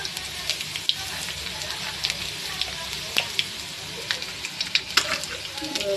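Onion sizzles and crackles in hot oil alongside browned garlic, a continuous close frying hiss dotted with small pops and spatula stirs, with a voice speaking faintly at times.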